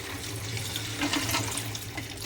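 Dried soapnuts and shikakai pods are washed clean of dirt in water, with close sloshing and splashing that stays steady for a couple of seconds and no voices.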